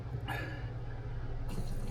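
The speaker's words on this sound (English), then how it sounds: "pumping some water up there" AILINKE cool and warm mist humidifier for a large bedroom, running with a steady low hum while water gurgles and trickles as it pumps up, a brief splashy burst early on and a louder rush near the end.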